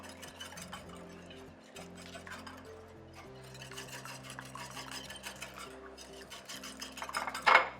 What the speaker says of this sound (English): That's going to take 1 egg, a whisk, half a teaspoon of vanilla, and a half a teaspoon of cinnamon, and whisk this to perfection.